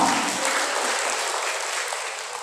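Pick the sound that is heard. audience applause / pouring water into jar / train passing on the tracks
audience applause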